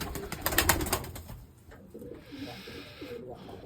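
An Arabian tumbler pigeon coos in soft, low repeated phrases after a burst of louder noise at the start, the calls fairly close and quiet.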